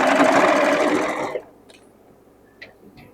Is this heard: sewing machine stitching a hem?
yes